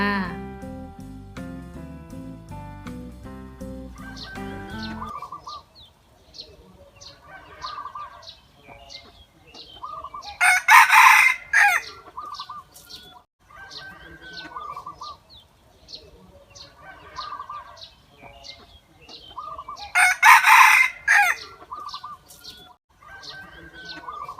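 A decoy rooster crows loudly twice, about ten seconds apart, amid steady chirping birds and clucking fowl; brief electronic tones open the recording.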